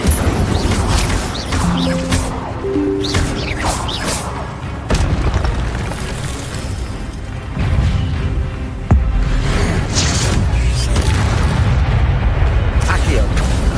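Spellcasting in Hogwarts Legacy, including the Incendio fire spell, with repeated booming bursts and crackling blasts at intervals over steady game ambience, loud and close.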